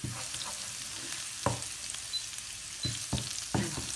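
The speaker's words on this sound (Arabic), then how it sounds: "نقلي الثوم" Garlic sizzling in a pan on a gas burner, a steady broadband crackle with several sharp clicks and knocks, likely a utensil stirring against the pan.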